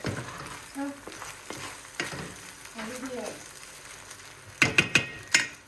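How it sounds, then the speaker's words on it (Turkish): Rice stirred and roasted in a pan, a low sizzle under scraping spoon strokes and a few louder metallic clanks near the end, close up, with no clear speech. "Pirincimiz kavruldu arkadaşlar"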